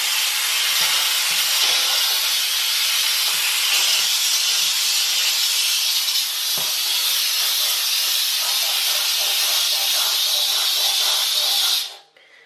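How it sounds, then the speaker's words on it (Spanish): A steam cleaner running on distilled water sprays steam in one loud, continuous hiss close to the microphone, with faint knocks underneath, until it stops abruptly near the end. "Lo único que utiliza es agua destilada y vapor."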